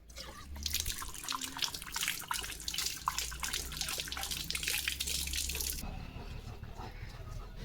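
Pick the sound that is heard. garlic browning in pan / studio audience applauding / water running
water running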